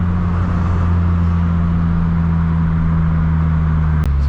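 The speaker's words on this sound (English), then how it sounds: "I actually don't mind the drone. Like, for me, that's when you really hear the exhaust as well." Exhaust drone from a Subaru BRZ tS cruising in fourth gear: a steady, loud low hum that holds constant for about four seconds, with no talk.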